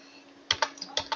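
Computer keyboard keys tapped in a short burst of about five distinct clicks, close and fairly quiet, with no voice present, while a blog post is typed into a Blogger site.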